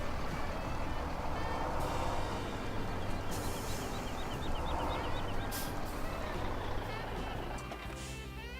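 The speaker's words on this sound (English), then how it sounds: "Drive the truck away again." Truck engine drone with a steady reversing beeper in Farming Simulator 2017, at a flour production placeable, continuous and fairly loud across the clip with game ambience underneath.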